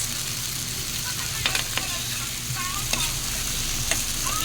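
Tomatoes frying and being stirred in a pan for an egg-and-tomato dish, a steady broadband sizzle with scattered scraping clicks of the utensil against the pan, close and fairly loud.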